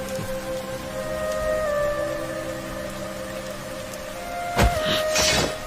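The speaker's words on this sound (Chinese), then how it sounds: "竹林天降大雨， 土木皆湿，火点不起来。" Heavy rain falls on a bamboo forest with a steady, soft hiss, partly under sustained musical tones, and a louder burst of downpour swells near the end.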